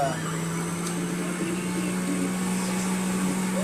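A fruit extractor juicer runs steadily while juicing carrots, its motor giving a constant loud hum with a low drone throughout, close and continuous, with no speech over it.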